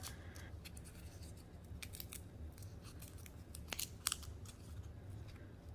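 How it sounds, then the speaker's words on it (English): Papery crackling and scratchy rustles as the skin is peeled off garlic cloves for a molcajete salsa, with soft irregular crinkles and a few sharper snaps, close and fairly faint over a low steady background hum. "So my garlic, remember I told you I left the skin on, so you want to peel the skin off."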